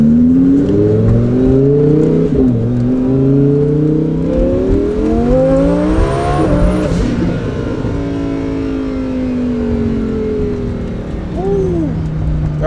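A 1500hp Lamborghini Huracan race car at Pocono Raceway, its loud engine revving steadily and rising and falling in pitch close by, with a sharp turbo blow-off whoosh near the middle. Voices can be heard faintly under the engine.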